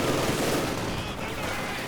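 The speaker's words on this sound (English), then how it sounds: "Panzer is getting flanked by the light machine gun" Sustained light machine gun fire in a Company of Heroes 2 1v1 match, a dense continuous rattle of bursts with explosions and battle noise mixed in, loud and steady throughout.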